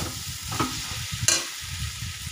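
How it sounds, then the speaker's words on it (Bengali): Water added to a frying masala for crab curry, a loud hiss and sizzle close by with stirring scrapes and a sharp burst as the liquid hits the hot pan. "এবার একটু জল দিয়ে দিলাম"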